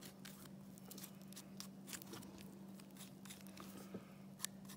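A knife slices through tissue while a bear skull is removed, producing soft intermittent crunching and tearing scrapes close by over a low steady hum, with no talking.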